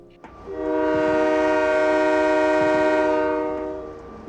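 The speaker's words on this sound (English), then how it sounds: "if you're patient, the train will give you a honk" A train in the War Thunder video game sounds one long sustained horn blast, loud and steady for about three seconds before fading, heard alone.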